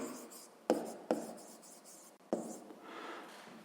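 Pen scratching across paper during a sixth-grade maths exercise on circle area, quiet strokes broken by a few sharp taps as the pen meets the page, close and alone.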